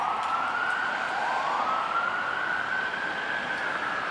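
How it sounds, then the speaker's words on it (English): An emergency vehicle siren wails through the city streets at night, a steady rising and falling tone sounding from a moderate distance over a constant background hum of traffic. "There have been a lot of sirens going off."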